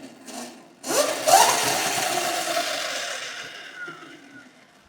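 A modded ERIDE PRO electric bike pushed to 32,000 watts pulls away. A sudden loud whining rush swells and then fades steadily over several seconds, with no talk.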